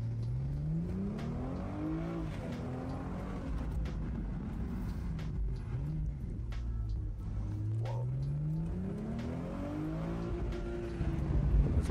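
A BMW M440i convertible with turbocharged engine revs through a hard acceleration pull, the engine note rising and falling through gear changes, loud, close and continuous with no talk.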